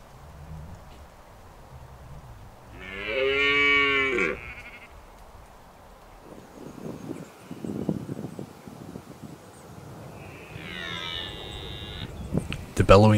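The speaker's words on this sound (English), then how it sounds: "The bellowing of the alpha stag in the rival group spooked some of his hinds to venture into our stag's herd." A red deer stag bellows during the autumn rut, two loud, drawn-out roaring calls separated by a quieter stretch where a person speaks softly in the foreground.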